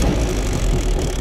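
A car engine with a badly set carburetor mixture screw gets a little gas, giving a loud, steady low rumble that barely rises, heard close and alone.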